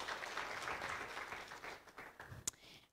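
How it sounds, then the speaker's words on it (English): An audience applauds a panelist at a live debate in Namibia, a steady wash of clapping that fades out toward the end, somewhat distant and faint. "Please give a hand of applause."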